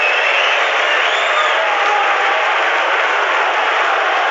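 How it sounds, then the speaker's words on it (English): Football stadium crowd at a Queens Park Rangers versus Middlesbrough match, a dense, continuous roar of many voices swelling steadily throughout, loud and broad with no clear breaks. "I think you can probably tell from the crowd noises when the ball goes anywhere near Lumley"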